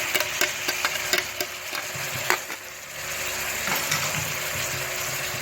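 Tomatoes tipped into a pan of frying onions, with a steady sizzle throughout and sharp clicks and scrapes of a spoon as the mixture is stirred, close and moderately loud, no talking.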